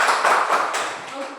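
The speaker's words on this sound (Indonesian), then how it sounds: "Tepuk tangan dulu." Schoolchildren in a primary classroom clapping together, a short burst of close, sharp claps that quickly trails off.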